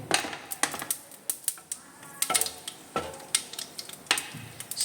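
Chopped vegetables tossed into a pan of sizzling, popping mustard seeds, giving a dense crackle with sharp spits and stirring clatter that continues steadily throughout.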